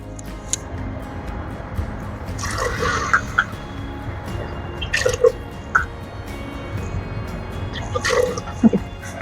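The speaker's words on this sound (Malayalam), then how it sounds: "ഇനി നമുക്ക് ഇതിലേക്ക് ആവശ്യത്തിന് വെള്ളം ചേർത്ത് കൊടുക്കാം." Water is poured into rice in a cooking pot, making intermittent drips and small splashes at a moderate level over a steady low background.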